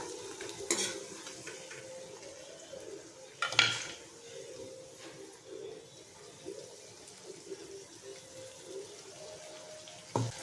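Ginger, garlic, chili and tomato gravy goes into a pan of frying onions with a couple of sharp wet splashes, then a soft, fairly quiet sizzle and occasional stirring with no voices.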